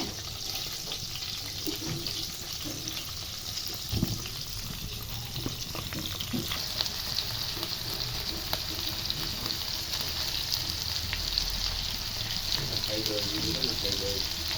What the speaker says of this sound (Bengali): তেলের মধ্যে পেঁয়াজ আদা রসুন দিয়ে দেব